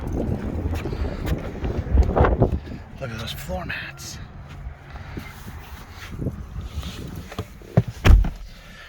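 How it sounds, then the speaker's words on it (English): Gusty wind rumbles and buffets the microphone in bursts beside a 2023 Lexus RX 350 F Sport while someone talks over it. "It's windy."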